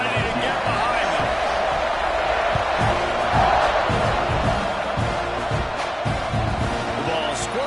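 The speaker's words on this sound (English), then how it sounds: "this crowd now ready to get behind them" A stadium crowd roars steadily in a College Football 26 game during an LSU season, a dense wall of cheering under an announcer's play-by-play commentary.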